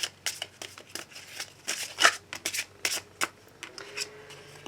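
Oracle cards are shuffled by hand for a morning card reading, making a series of close, crisp riffling and sliding bursts with short pauses between them.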